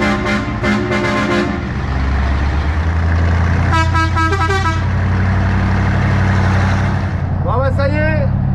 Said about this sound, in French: le camion, ça a l'air de tourner, là on va le tester